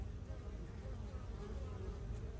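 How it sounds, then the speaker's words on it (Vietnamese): Honeybee colonies hum with a steady, dense buzz of many bees close by, continuous throughout with no voices over it. "Đây chúng ta nhìn là một số đàn ong."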